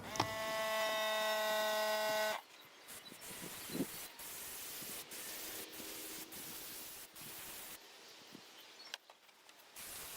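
Hissing aerosol spray paint bursts in short and longer blasts, close by, black paint on a model railway layout, with a tonal whine at first followed by quieter intermittent spraying and faint handling noises.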